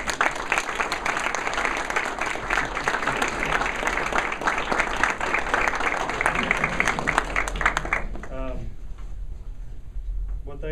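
Audience applause at a signing event introducing a high school diver, a steady dense round of clapping that fills the room and then stops abruptly, leaving quiet room tone.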